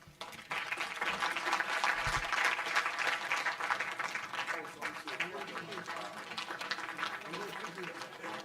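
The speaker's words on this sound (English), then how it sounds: "Let's give the main speaker, Minister Mantashe, another big round of applause." A lecture audience applauds a speaker, dense clapping swelling up suddenly and sustained for several seconds before gradually thinning out, with a low hum underneath.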